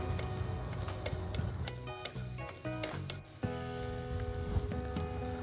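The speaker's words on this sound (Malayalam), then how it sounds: "അതിലേക്ക് ഞാൻ ഇഞ്ചിയും വെളുത്തുള്ളിയും ചോപ്പ് ചെയ്തത് ചേർത്തു. എന്നിട്ടൊന്ന് നല്ലോണം എല്ലാം കൂടെ ഒന്ന് സോട്ട് ചെയ്യാണ്." Chopped Thondan chilies, ginger and garlic are sautéed in a pan, giving a continuous sizzle broken by repeated clattering scrapes and knocks of a stirring utensil, close and clear with no voices.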